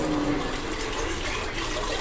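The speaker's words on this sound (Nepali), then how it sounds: "पानी पखाले चामललाई" Water runs and splashes steadily as rice is washed in a kitchen before cooking on a gas stove, a continuous close wash with no pauses.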